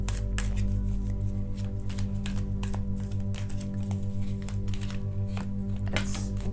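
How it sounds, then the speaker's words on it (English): Tarot cards are shuffled by hand in a quick run of crisp riffling and tapping, close and steady, over a low constant hum. "Let me just shuffle all the cards now"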